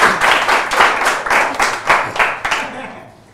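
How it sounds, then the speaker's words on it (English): Studio audience on a quiz show claps in a loud, close, rhythmic burst of roughly evenly spaced beats, dying away quickly after about three seconds. "A round of applause."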